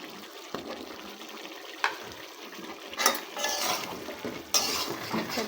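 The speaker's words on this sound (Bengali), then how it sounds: "মাংসটাকে খুব ভালোভাবে কষাই করে নেব" Pigeon meat and potatoes being stirred and sautéed in a pan without added water, with repeated scraping and clinking of a utensil against the pan over a soft frying hiss, fairly close and with no talking.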